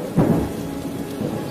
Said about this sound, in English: It might even rain this afternoon.